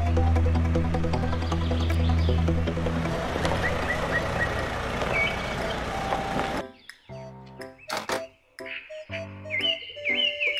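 A toy cement mixer truck plays a loud electronic tune, then cuts to sharp, repeated reversing beeps and short chirps, close up and with no talking.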